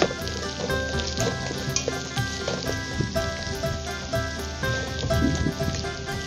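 Onion and tomato for a rabbit stew fry in a pan with a continuous close crackling sizzle, small pops and spatters scattered through, no talk.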